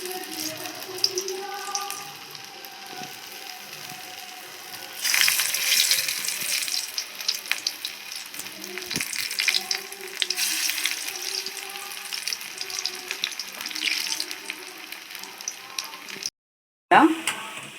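Cassava bonda balls fry in hot oil with a steady close bubbling hiss that swells louder at times as more pieces are dropped in, and a brief dropout near the end.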